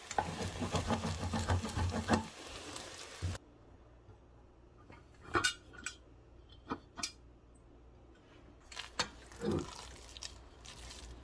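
Rice cooking in a pot over low heat is stirred and turned from the bottom, first with a dense scraping rustle, then with sparse soft knocks and scrapes against the pot in a quiet room.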